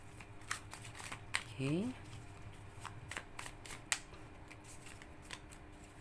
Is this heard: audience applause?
no